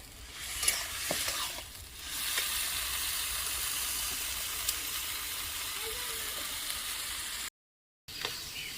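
Taro stems cook with coconut in a pan, making an even, moderately loud frying hiss with a few light spatula knocks and a brief cut to silence near the end.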